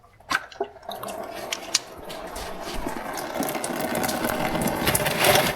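Coolant from an LS1 Camaro radiator starts draining into a pan once the cap comes off, a few sharp clicks then a rising, steady splashing trickle that grows louder toward the end, no talk.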